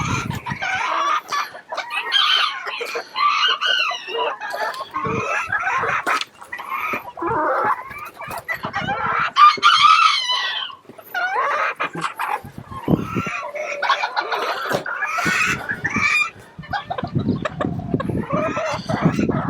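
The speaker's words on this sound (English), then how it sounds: "she is a really beautiful chicken that I do plan on breeding this year" Bantam chickens cluck and squawk repeatedly and close by in a busy coop, with overlapping calls, occasional crowing-like bursts, and a dog barking now and then.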